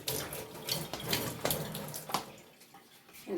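Water splashes and runs out of a jar of sprouting mung beans into a sink. The pour is close and steady, with a few louder gushes before it tails off.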